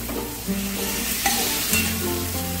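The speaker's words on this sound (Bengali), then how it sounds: "এবার আমি আলুগুলোকে দিয়ে দেবো। আলুগুলোকে দিয়েও আমি ওই 1 মিনিটের মতন একটু সব কিছু মশলার সাথে মিশিয়ে নেব।" Potatoes are stirred with spices in a sizzling pan. A loud, close hiss of frying runs under repeated scraping and clattering of a spatula against the metal, with no talking.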